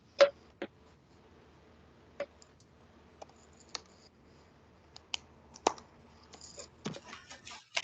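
A computer keyboard in an EMT course setting is tapped with scattered, irregular clicks, sparse single keystrokes and a short flurry near the end, close and fairly quiet.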